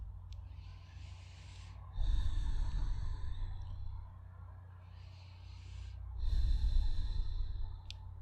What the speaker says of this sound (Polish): Oddychamy głęboko.